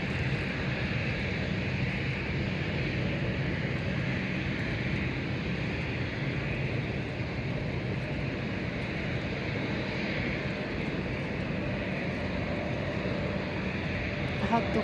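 A British Airways airliner passes near London City Airport by Canary Wharf, a steady, distant broad engine roar lasting throughout, with voices nearby.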